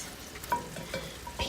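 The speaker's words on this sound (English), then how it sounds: "Stir fry. With some broccoli," Broccoli, chicken, carrots, mushrooms, cauliflower and water chestnuts stir-frying in a pan, a soft continuous sizzle broken by a few light scraping stirs, close and alone.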